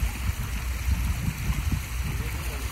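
Water rushes and gurgles steadily over a long crested weir on an irrigation ditch at the Bachechi farm in Corrales, a close, continuous broadband flow with no pauses.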